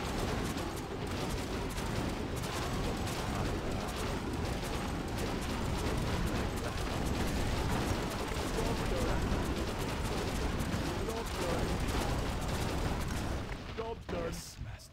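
Cannon tower in the tower defense game Arkguil TD firing a dense, continuous barrage of booming shots and impacts, loud and busy from start to finish before dropping off near the end.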